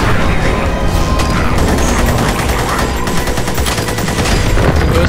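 Dense, loud barrage of rocket launcher blasts and explosions in the wizard game Magicka, a continuous rumbling, crackling roar of overlapping impacts with no pause.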